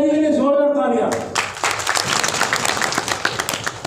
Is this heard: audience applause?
yes